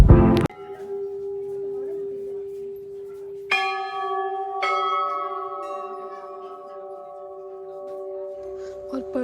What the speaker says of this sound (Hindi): घंटियों की आवाज़ इतनी ज़्यादा पीस और पॉजिटिविटी देती है